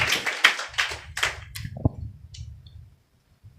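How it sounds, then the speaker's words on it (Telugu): A church congregation clapping during a Sunday worship service, a short burst of sharp claps that quickly thins out and fades to silence within about three seconds. "చప్పట్లు"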